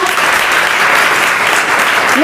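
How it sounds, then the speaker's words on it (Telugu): A church congregation claps hard and loud in dense, continuous applause that fills the whole clip without a pause. "అందరం ఒకసారి గట్టిగా చప్పట్లు కొడదామా?"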